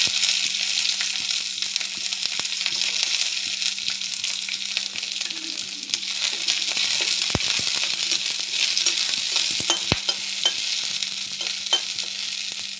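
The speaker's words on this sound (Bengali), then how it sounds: "রসুনটা হালকা ভাজা হয়ে গেছে" Garlic sizzles steadily in hot cooking oil with a continuous, fairly loud crackling fry, and a few sharp clinks of a utensil against the pan near the middle and end.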